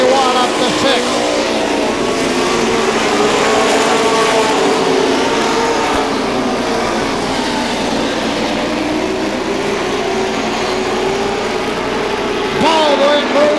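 Pro stock race cars at a night racing event on an oval track, engines droning loudly and steadily throughout with shifting pitch as they pass, plus a brief sharper engine surge near the end, with commentary voice underneath.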